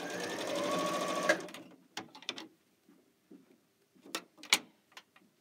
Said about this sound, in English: This is why it's so handy, Peter, to have everything right here at the sewing machine